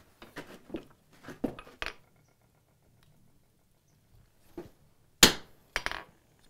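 A sledgehammer strikes wrought iron while a door bolt is forged in a shop, giving a few sharp, loud metallic blows separated by quiet gaps, plus some lighter knocks earlier on.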